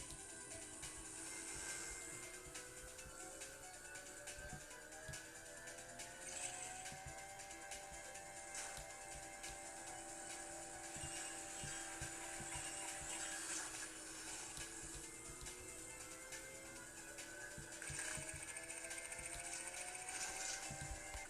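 A helicopter power-up in a Nintendo DS racing game gives a steady, loud whirring drone with gliding engine-like tones, running unbroken the whole time with game music mixed in.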